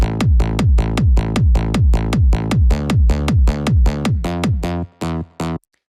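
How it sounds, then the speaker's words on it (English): Hard trance low end built in Serum: a punchy kick thumping steadily with an offbeat bass line pulsing between the beats, loud and driving, cutting out into a few final isolated hits with no voices. "the kick is very punchy and we have the typical offbeat bass line"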